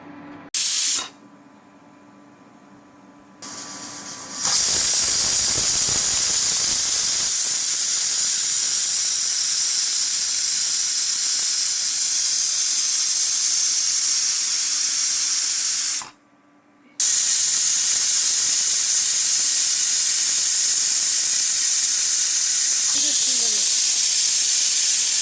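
A pressure cooker on a stove vents steam in loud, sustained hissing whistles, with one brief break before the jet resumes, heard up close and without voices.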